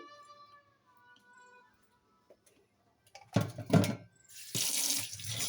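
Homemade wheat-flour noodles being rinsed in water: after a quiet start, running water splashes in two short bursts and then a sustained pour, fairly close and without speech.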